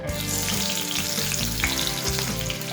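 Finely chopped tomato fries in hot oil with black cumin seeds, giving a dense, continuous sizzle that is loud and close, with faint stirring underneath and no voices.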